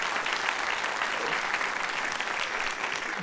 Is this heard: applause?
yes